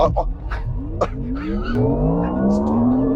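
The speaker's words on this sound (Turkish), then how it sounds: "Ha şu anda launch kontroldesin. Frenden bıraktığın anda roketleyeceğiz." A car launches from launch control, its engine revving up with steadily rising pitch and building loudness, with possible tire noise, while people talk and laugh over it.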